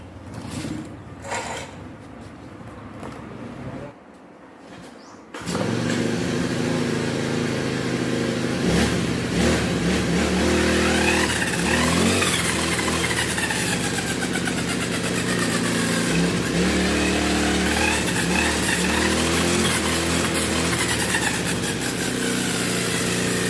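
A Honda motorcycle engine starts after a gear head replacement and then runs loud and close. It settles into a steady idle with several revs rising and falling over about twenty seconds.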